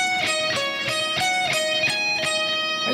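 A guitar picks a slow, evenly spaced minor pentatonic lick of single notes, each plucked attack ringing out clearly with no voices.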